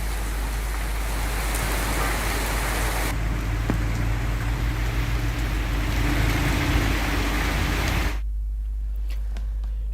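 Heavy rain pours down at a grain market where stacked wheat gets soaked, a dense, steady roar that stays loud and even before easing to a lighter hiss for the last couple of seconds.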